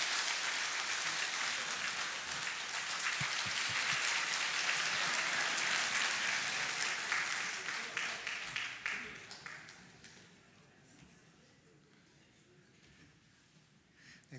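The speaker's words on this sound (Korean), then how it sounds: "우리 박수로 축하하도록 하겠습니다." A church congregation applauds after a prayer at a Sunday service, dense clapping that holds steady, thins into scattered claps around ten seconds and fades into quiet room sound.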